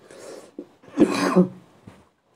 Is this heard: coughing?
yes